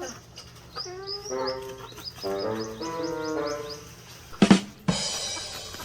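A bantam chicken clucks and calls in a short series of squawking notes, followed by a couple of sharp, noisy bursts nearby.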